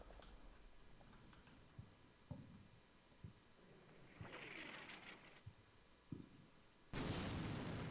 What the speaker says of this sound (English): Drop an arty on the building.